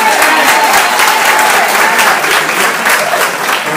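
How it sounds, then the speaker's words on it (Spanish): Loud, dense applause from a crowd at a political campaign gathering, steady clapping throughout with some voices mixed underneath. "vamos a dar un aplauso a Papá Dios porque con él estamos aquí"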